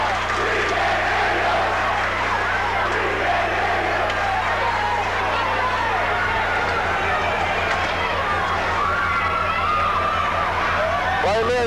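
West Haven crowd roaring and cheering throughout a high school hockey semifinal, a loud, continuous wash of voices filling the rink while a commentator talks over it.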